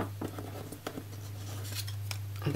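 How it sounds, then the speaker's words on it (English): Scissors snip through designer series paper for punch art, a few faint, close cutting crunches over a steady low electrical hum. "Take our scissors and just cut the upper portion"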